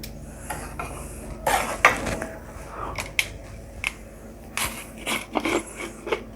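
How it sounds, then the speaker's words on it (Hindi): Roughly half a kilo of sugar poured into a pan for panjeeri, heard as gritty rushing bursts with scattered clinks and scrapes, close and moderately loud, without talk. "ये चीनी मैंने डाली।"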